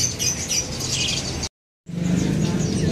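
Prinia birds at a bird market chirp in quick, high twittering bursts around a brief silent break, with a low murmur of market background beneath.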